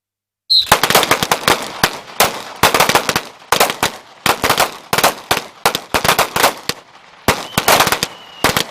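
Security forces at a shooting range competition fire rapid bursts of loud, sharp gunshots in clustered volleys separated by brief pauses, heard close and alone after a short silent start.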